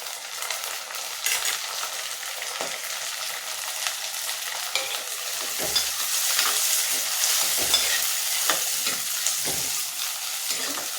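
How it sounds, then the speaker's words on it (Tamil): Tomatoes stirred and frying in a clay pot, with a steady broadband sizzle throughout and repeated scraping stir strokes every second or so, close and fairly loud, with no voices. "தக்காளி நல்லா வதங்கட்டும்."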